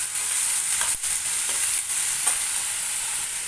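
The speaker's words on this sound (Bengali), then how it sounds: "একটু নাড়াচাড়া করে তেল হলুদ দিয়ে ভালো করে মিশিয়ে দেবো" Eggplant and small fish are stirred in a pan with hot oil and turmeric, giving a steady, loud sizzle with a few brief scraping strokes and no talking.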